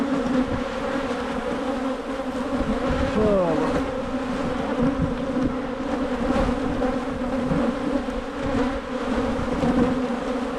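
Honey bees buzz continuously around a large hive colony during early spring inspection, a dense, close, steady drone with no talking.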